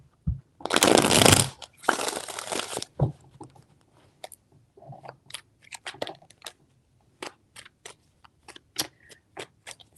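Tarot cards are shuffled: two long riffling bursts come first, then a run of quick, sharp card taps and flicks, close and alone.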